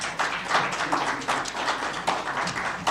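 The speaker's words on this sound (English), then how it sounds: "A round of applause," Applause from an audience at a G20 expert panel report handover comes in a fairly close, uneven spatter of claps with small surges, and no clear talk over it.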